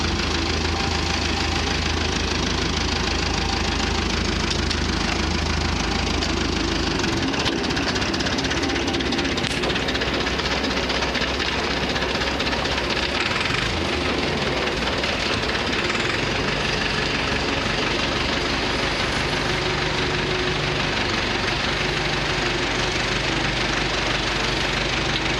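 Steady, loud engine drone of a new Massey Ferguson tractor running throughout, with a deeper low rumble that shifts slightly partway through as the touchy throttle is adjusted; no talking.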